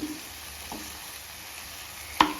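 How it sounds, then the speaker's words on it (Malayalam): Cooked, softened tomatoes are mashed with a ladle in a pan while making crab curry, giving a steady low sizzle with scraping stirs and one sharp clink of the ladle near the end. "ഇനി ആ തവി കൊണ്ട് തന്നെ നമുക്ക് ആ തക്കാളി എല്ലാം ഒന്ന് ഉടച്ചു കൊടുക്കണം."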